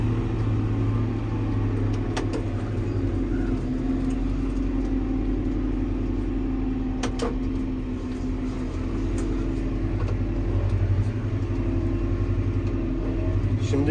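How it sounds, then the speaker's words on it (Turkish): A Fendt 313 tractor engine runs as a loud, steady low rumble in the field, holding a constant droning note with faint mechanical clicks over it and no clear rise in pitch. "Joystick'i ittikçe traktör hız alıyor"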